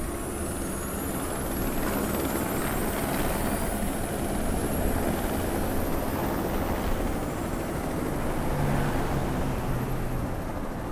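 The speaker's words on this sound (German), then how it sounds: "nein, ich glaube, das ist ein Helikopter" A helicopter in the video game Watch Dogs 2 drones continuously at a steady, fairly loud level for the whole stretch, with a broad rumbling engine wash and no talk over it.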